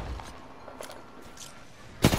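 Gunfire in the video game Apex Legends: faint, distant shots pop sparsely before a sudden louder, closer burst at the very end.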